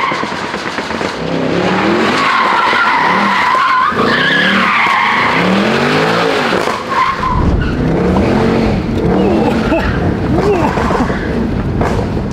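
A car drifts around Los Angeles, its rear tires skidding and squealing loudly while the engine roars underneath. The screech runs almost without a break for over twelve seconds, shifting in pitch as the car slides, close and dominant.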